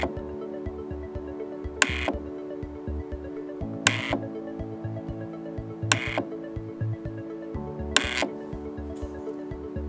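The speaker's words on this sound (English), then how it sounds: "Another option is to chatter the solenoid." An irrigation valve solenoid chattered by an Armada Pro50 makes a rapid, steady mechanical clicking buzz close by, with a sharp louder clack roughly every two seconds.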